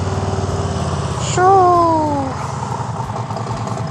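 2021 Harley-Davidson Street Glide Special with a Two Brothers slip-on exhaust idling close by in a steady, loping low rumble, with a brief higher whine and a short spoken exclamation partway through.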